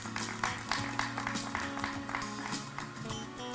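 Audience at a drama press conference applauding an actor returning to the stage, a dense, fairly faint wash of many hands clapping with music playing underneath.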